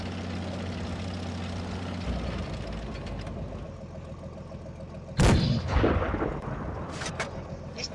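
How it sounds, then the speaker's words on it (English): Gunfire in a video game: a steady low mechanical drone runs throughout, then a sudden loud burst of shots hits midway, followed by a couple of fainter sharp reports near the end. "Just casually shooting."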